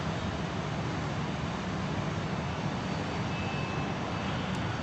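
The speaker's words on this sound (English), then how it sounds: "little plane flying across the moon there." A small airplane drones overhead on a summer night, a steady, broad engine roar heard alone with no talk.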